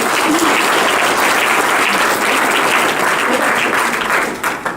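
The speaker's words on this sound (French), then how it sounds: "On t'applaudit très fort pour t'encourager" Loud, dense applause from an audience at a Rotary Club oral expression contest, encouraging a young speaker, sustained evenly for over four seconds before tapering off.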